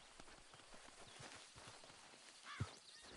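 Horse hooves clip-clop in Red Dead Redemption 2, a steady run of soft near thuds with a sharp louder snort or hit near the end.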